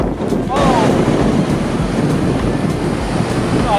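Ocean surf rolls onto Coco Beach in Dar es Salaam, Tanzania, a steady broad wash of waves with wind rumbling on the microphone, close and continuous with no talk.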